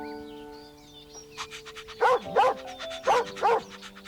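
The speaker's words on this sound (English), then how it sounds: "Why do you keep barking?" A dog, apparently a puppy, barks four times in quick succession after a faint whimpering start, close and clear with short, sharp yaps and a soft tonal hum beneath.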